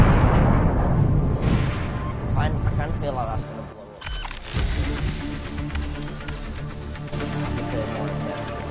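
Booming blast in Subnautica during a creative speedrun: a heavy rumbling detonation with crackling debris, followed by a second sharp burst and ringing tail, all loud and close, with a voice talking over the early part.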